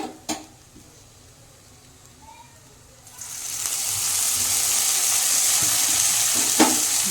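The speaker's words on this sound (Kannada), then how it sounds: "ಆಮೇಲೆ ಸ್ವಲ್ಪ ಎಣ್ಣೆ ಹಾಕಿ ಹುರ್ಕೊಳಂಬ್ರಿ" Bitter gourd fries and sizzles in oil, being stirred; a quiet start with a clack, then a loud steady hiss swells in and holds to the end, close by with no talk.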